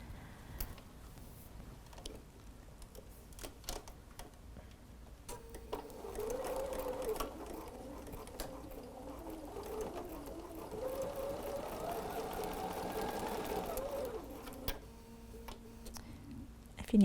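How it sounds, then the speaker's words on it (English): A sewing machine stitches prairie points on a laser-cut appliqué quilt, first a few quiet clicks and handling noises, then a steady close mechanical whir of stitching for several seconds before it slows and stops. "So let's head over to the sewing machine."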